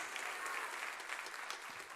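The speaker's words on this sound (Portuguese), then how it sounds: "Aplauda o nome do Senhor Jesus." Church congregation applauding during a sermon, a soft continuous patter of many hands clapping, heard from a distance and fairly faint.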